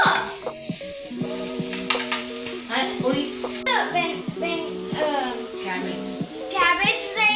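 Cabbage stir-frying in a home kitchen pan under a quiet sizzle, while children talk and chatter nearly throughout, with occasional scraping from the spatula.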